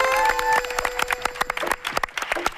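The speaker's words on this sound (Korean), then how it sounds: "박수" A studio audience at a Shinhwa TV variety show gives a brief round of scattered clapping, with uneven individual claps and some tonal background sound underneath.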